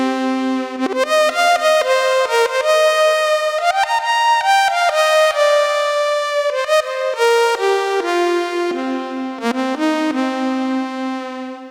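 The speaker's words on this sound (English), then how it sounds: "It could do big cinematic leads as well," A bold, bright cinematic FM synth lead from GForce Halogen FM plays a stepping melody of sustained notes with rich harmonics, loud and continuous with short gaps between phrases.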